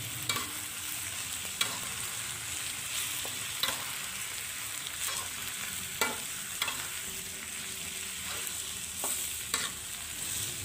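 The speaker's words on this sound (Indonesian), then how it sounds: "Saya campur dulu semuanya." Pak choi and scrambled egg are stirred in a hot frying pan, giving a constant close sizzle and frying hiss broken by periodic scrapes of the utensil against the pan, with no talk.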